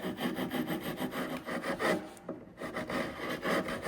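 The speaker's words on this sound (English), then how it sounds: "Now I can go through and just kind of open that channel up a little bit with my rasp." A hand rasp files along a channel in a wooden chair post, close, rhythmic scraping strokes in a steady back-and-forth pattern, briefly pausing midway, with no voices.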